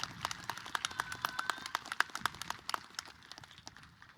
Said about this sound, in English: senior class, give yourselves a round of applause for that